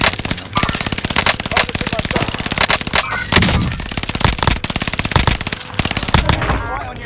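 An MG42 machine gun fires in Call of Duty: Warzone, long dense bursts of rapid automatic shots that are loud and close, with brief gaps between strings and faint voices underneath.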